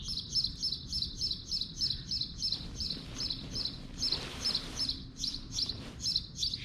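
A bird outdoors at a tent campsite chirps in quick, regular bursts of high, repeated notes throughout, fairly close and clear over a quiet background, with no talking.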